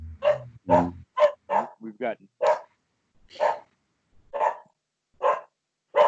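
Dogs barking at strangers in a yard: a run of loud, close barks and yips spaced across several seconds, with a brief spoken phrase near the start.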